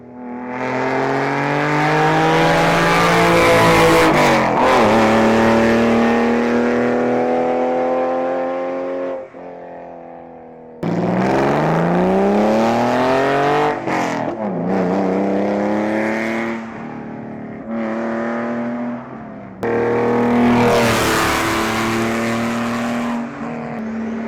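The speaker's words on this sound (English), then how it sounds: "And this exhaust, it's an amazing sounding exhaust. I want you guys to hear it, so here's a quick clip." A car with an aftermarket exhaust revs loudly and repeatedly in three long bursts, the engine note climbing and falling with brief quieter gaps in between, close and alone with no talk.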